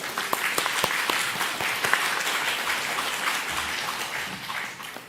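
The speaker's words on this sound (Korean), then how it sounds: "박수 한번 쳐줄까요?" Church congregation applause during a Sunday service for the accompanist, a steady wash of clapping with a few sharp individual claps standing out, sustained at moderate loudness and tapering slightly at the end.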